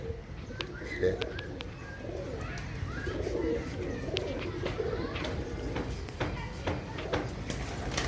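Pigeons coo softly in repeated low murmurs amid a busy ambient background, with several voices of birds overlapping continuously.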